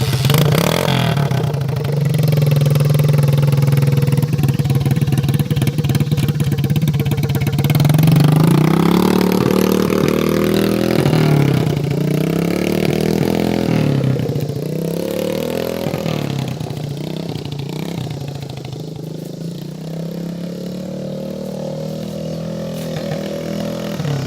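An old dirt bike engine running close by with a loud, rough, rattling idle. It revs repeatedly, with the pitch rising and falling, then settles as the sound slowly fades, and no one talks over it.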